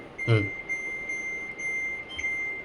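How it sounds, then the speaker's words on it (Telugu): A washing machine alarm: a thin, continuous electronic tone drones steadily, with a brief voice-like burst near the start and a faint click later. "అలారం బీప్ సౌండ్ వస్తుంది"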